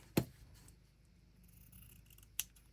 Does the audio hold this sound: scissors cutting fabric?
yes